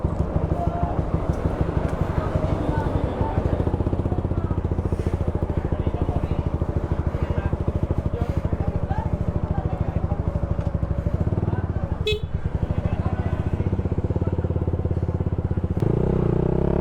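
A CF Moto NK450 or Honda Rebel 500 motorcycle ridden at night gives a steady, close engine drone with rumble and clatter that runs unbroken through the whole stretch, with voices faintly mixed in.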